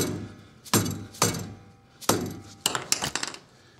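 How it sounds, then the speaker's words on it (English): Several sharp metallic hammer hits on a trailer brake hub, close and irregular, with a quick flurry of lighter taps near the end. "I'll show you with this hammer."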